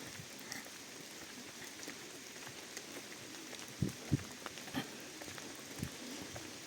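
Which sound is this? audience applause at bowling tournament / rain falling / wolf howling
rain falling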